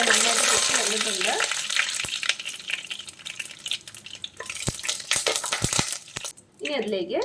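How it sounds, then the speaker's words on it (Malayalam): Mustard seeds splutter in hot coconut oil with dried red chillies and curry leaves for rasam, a close sizzling hiss broken by sharp crackling pops and occasional scraping clinks of a stirring spoon. "കടുകൊക്കെ നന്നായിട്ട് പൊട്ടി വന്നിട്ടുണ്ട്."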